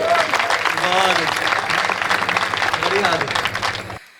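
Applause from the audience at a Hindi comedy poetry gathering, a thick and sustained burst of clapping with a few voices mixed in, which stops abruptly near the end.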